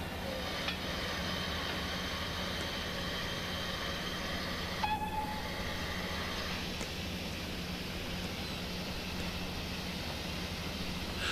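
A model railway Kerr Stuart Victory locomotive hauls coal-loaded wagons, giving a faint, continuous mechanical hum and rolling whir with a brief tonal squeal partway through, under a steady background hiss.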